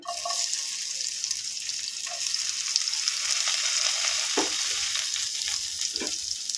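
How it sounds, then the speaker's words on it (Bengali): Chopped onion fries in white oil in a kadai, giving an even, close hiss with a few soft stirring knocks and no voices. "এখানে একটা কড়া বসিয়ে দিয়েছি তাতে বেশ কিছুটা সাদা তেল দিয়ে দিয়েছি"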